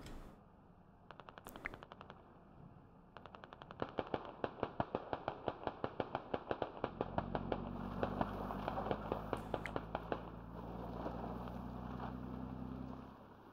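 A long, rapid string of gunfire cracks in a firefight in the military shooter Squad, evenly spaced shots rattling off in a steady automatic rhythm at mid distance, with a low engine-like drone building underneath, no talk.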